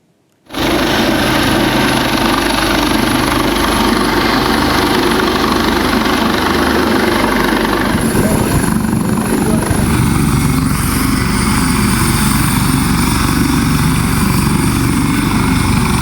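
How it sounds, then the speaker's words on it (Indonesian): A Basarnas rescue helicopter flying during flash-flood evacuation in Agam, West Sumatra, its rotor and engine roaring loud and close, a constant heavy thrum that starts abruptly and persists without any voices. "Basarnas kerahkan helikopter untuk evakuasi korban banjir bandang di Kabupaten Agam"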